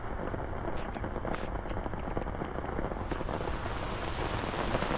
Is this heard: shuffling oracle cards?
no